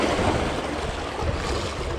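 Wind-driven waves rippling across open water at a fishing spot, a continuous close rush of wind and lapping surface, loud and steady with no voices.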